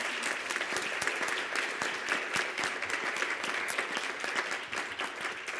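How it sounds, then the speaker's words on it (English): An audience at a talk event on Iran applauds Pani Farvid with steady, dense clapping that fills the room throughout, loud and continuous with no voices over it. "If we could have a round of applause for Pani."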